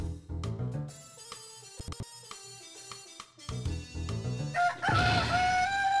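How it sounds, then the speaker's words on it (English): A large chicken crows in the Breath of Fire 3 video game, with a loud, rising cock-a-doodle-doo call near the end, heard over background game music and sound effects. "Yeah, that is a big chicken."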